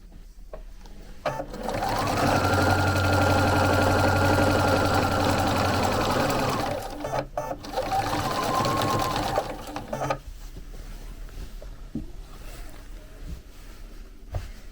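Quilting a chenille baby quilt, a sewing machine runs loud and close in a long steady stitching burst, falls briefly quiet, then resumes a shorter run before stopping, leaving faint handling noises.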